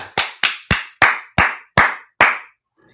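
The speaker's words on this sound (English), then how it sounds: "People applauding all over the world" Seven distinct, evenly spaced hand claps ring out close and crisp, each with a short ringing decay, then stop, like a single person clapping slowly.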